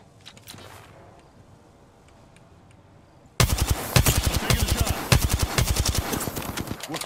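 Apex Legends gunfire: after a quiet stretch with faint game sounds, a loud burst of rapid automatic shots erupts and keeps hammering in dense repeated volleys through the rest.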